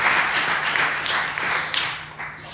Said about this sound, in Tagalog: Isang buhay na palakpak sa ating dakilang Diyos na buhay.